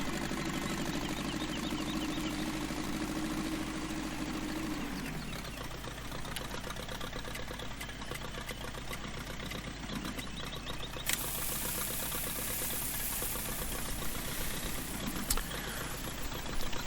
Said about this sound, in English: I love this lucky little tractor.